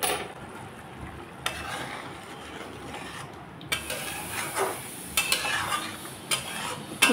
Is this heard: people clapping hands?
no